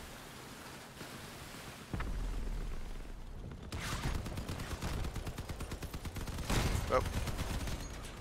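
Typhoon weapons fire in the vehicle combat game Crossout in rapid, rattling bursts with heavy booms. A short thud comes first, then sustained fire with a loud blast near the end, and a voice briefly exclaims over it.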